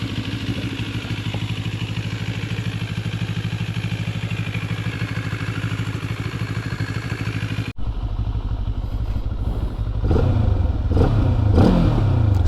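A Benelli TRK 702 adventure motorcycle engine runs steadily up close, a loud continuous mechanical drone that briefly cuts out near the middle, then returns and swells with revving toward the end.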